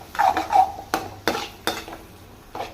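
A metal spoon stirs goat blood fry in a pan, several sharp scraping clinks and knocks against the vessel at an irregular pace, close and clear with no talk.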